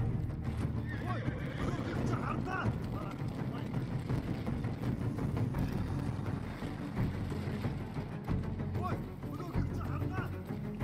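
In the Ghost of Tsushima video game, a horse neighs and its hooves clip-clop steadily. People talk over the game sound throughout.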